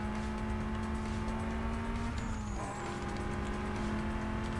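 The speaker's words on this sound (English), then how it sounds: "It's got a fat turbo sound though." Turbocharged car engine in the racing game Need for Speed Most Wanted, a steady droning run with a brief pitch dip and rise partway through, loud and continuous with no talk.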